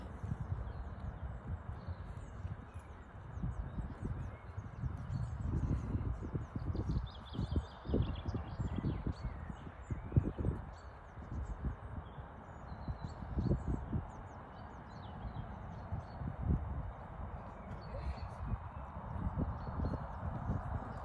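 Faint hooves of a dressage horse clip-clop in an irregular walking rhythm over soft ground at an equestrian yard, with birds chirping lightly in the distance and a low outdoor hush.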